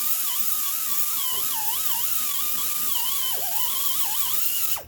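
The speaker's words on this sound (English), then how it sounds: "get a 120 grit drum or one of these guys here" A rotary tool with a 120 grit sanding drum grinds out the lower ball joint hole on a 2010 Subaru Impreza, a close, steady high-pitched whine that wavers in pitch under load before cutting off at the end.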